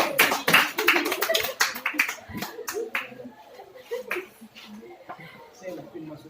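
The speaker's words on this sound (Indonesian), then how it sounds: "Tepuk tangan dulu Bu Cesi." Applause from a class of students for their teacher Bu Cesi, a burst of quick hand claps and taps that thins out over several seconds, mixed with voices and chatter throughout.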